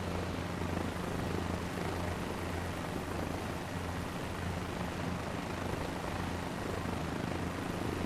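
A helicopter engine in MSFS 2024 hums steadily with a low rotor drone and broad whooshing, continuous and even throughout, with no voices.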